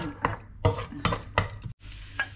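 Onions for chopsuey being stirred in olive oil in a pan that is not yet hot, giving a few short bursts of scraping and light sizzle close by, with a brief silent gap near the end.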